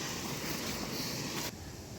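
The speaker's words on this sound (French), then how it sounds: "Donc la cascade, en fait, elle est juste là." The waterfall at Les Sources de l'Infernet, heard on a hike, gives a steady, faint rushing roar. The hiss is even and distant and cuts down a little in the final half second.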